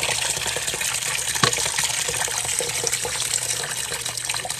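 A home washing machine runs a rinse cycle, water rushing and splashing steadily inside the drum throughout, loud and close with small sloshing surges.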